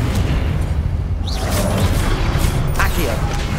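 Confringo fire spell cast during Hogwarts Legacy combat on PC, giving a booming, bursting blast over a dense, continuous wash of game noise, with a voice present.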